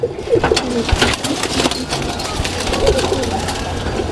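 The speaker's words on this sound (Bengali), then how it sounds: "পাখি ব্লাড লাইন মানে ওনার জাতের কবুতর এগুলা" Pigeons coo repeatedly nearby, soft rolling calls overlapping with other bird sounds and a faint background murmur, moderately loud and close.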